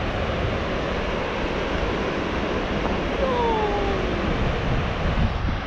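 Broad Icelandic waterfall roaring as a steady, dense wash of falling water that stays loud and even throughout, with faint tonal whistles passing over it partway through.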